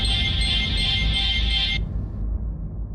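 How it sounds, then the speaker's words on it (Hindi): An electronic phone ringtone plays loudly and continuously, then cuts off abruptly partway through, leaving a low background hum. "लो, अभी की दादी का फोन।"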